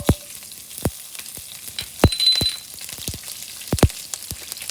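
Asafoetida and chilies hit hot oil in a pan for Rajasthani methi gatte, giving a soft continuous sizzle with sharp crackling pops scattered throughout, close up and with nobody speaking.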